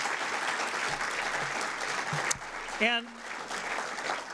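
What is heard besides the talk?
audience applause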